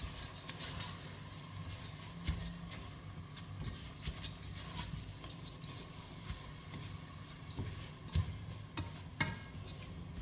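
A parboiled rice mixture sautés in a pan with a faint, steady sizzle, broken by occasional soft scrapes and taps of stirring.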